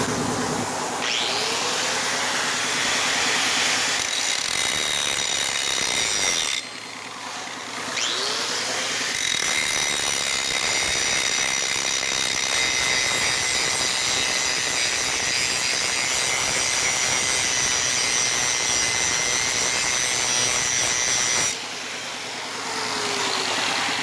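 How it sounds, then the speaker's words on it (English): An angle grinder with a grinding disc bevels forklift fork steel, a loud sustained whining grind close by that runs nearly continuously, with a couple of brief pauses where the disc spins down and restarts. "I'm just beveling the two pieces here, as you can see, using a grinding disc"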